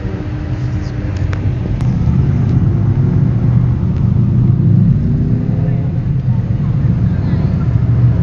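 A Shelby Cobra at a Cars and Coffee meet in Palm Beach gives a deep, loud, close engine rumble that holds steady and heavy throughout, with little sign of sharp rev spikes.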